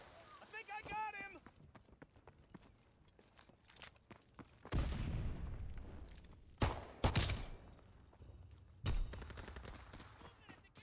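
Call of Duty gunfire plays out as scattered shots and several loud bursts, with heavy blasts near the middle and toward the end, while voices talk over the action.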